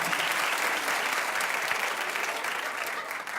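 A studio audience breaks into dense, sustained applause, steady for a few seconds before easing slightly at the end.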